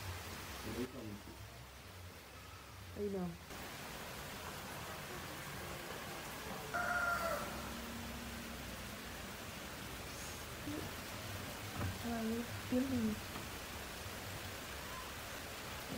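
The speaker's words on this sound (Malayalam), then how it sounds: "വലുതായിട്ട് മഴയൊന്നുമില്ല, ചെറിയൊരു മഴയെ പെയ്തിട്ടുള്ളൂ." Light rain falls outside a covered sit-out as a soft, steady hiss that stays quiet and even throughout, with faint voices occasionally heard beneath it.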